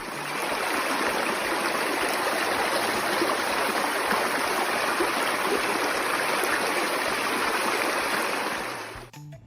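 Steady running water like a stream or small waterfall flows loudly and continuously, a dense broadband rush that holds constant before cutting off at the end.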